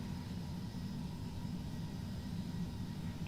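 Engines of an Airbus A321 in Wizz Air livery spool up for taxi in Microsoft Flight Simulator, a steady low rumbling drone with a faint whine above, even and continuous at a subdued level.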